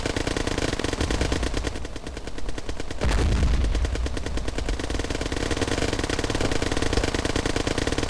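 Tank firing on soldiers in the Garry's Mod war game: a long, loud, continuous burst of rapid machine-gun fire over a rumbling engine, with a heavier blast partway through.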